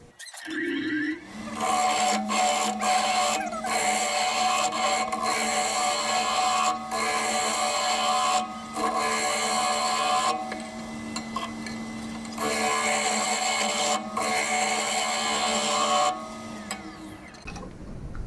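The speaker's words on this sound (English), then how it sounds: "we're going to turn this cylinder down to 2 1/4 inches" A wood lathe spins a cherry burl and epoxy cylinder as it is turned down for a shift knob, a loud whirring drone with a high tonal whine and repeated scraping bursts as the tool cuts, briefly pausing between passes.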